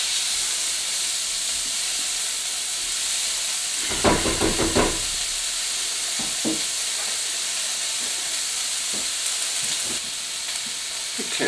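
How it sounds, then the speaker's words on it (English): Onions and capsicum sauté in a pan with a steady, close hiss and sizzle, and a short burst of stirring clatter partway through before the even frying noise settles again. "We're just going to saute them till the onions are nice and translucent."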